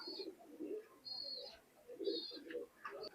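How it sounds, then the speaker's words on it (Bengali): Imported-bloodline Pakistani pigeons coo in low repeated phrases, faint and close, with a few higher chirps between the murmuring calls. "দুইটা ইনপুট ব্লাড লাইনের কবুতর"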